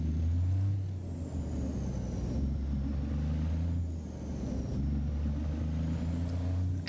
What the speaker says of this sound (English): the engine sounds today are again courtesy of Slab Jerry